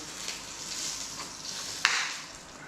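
Lamb pieces drop into a hot pan and sizzle steadily up close, with one sharper crackling burst partway through as the meat hits the oil.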